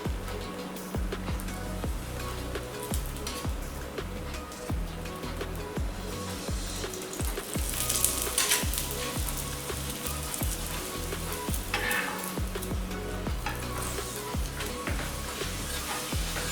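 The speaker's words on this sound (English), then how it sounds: "Then turn it and now keep it fry one side for 35 to 40 seconds." Laccha paratha frying in oil on a pan makes a faint, even sizzle with soft popping, continuous throughout, with no voices over it.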